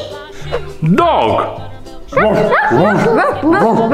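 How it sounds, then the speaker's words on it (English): A dog barks and yips in quick, bright bursts, several yelps tumbling together near and loud over a light rhythmic children's-song backing. "Ooh, like the dog sound."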